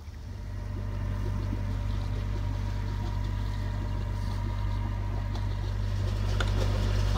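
A sailboat motors across a calm, windless sea with no waves, its engine running as a steady low drone that holds constant and fairly close, with faint water and wind noise above it and no talk.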